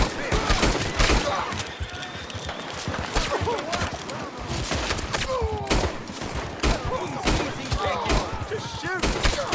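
Gunfire during a Red Dead Redemption 2 shootout, with irregular bursts of shots cracking throughout, mixed with horse hooves and shouting voices.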